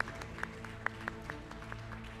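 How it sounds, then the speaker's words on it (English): Audience at a university graduation ceremony clapping, heard as a short run of sparse, evenly spaced claps over a soft hall murmur. "Let us give a big round of applause to Mukunda"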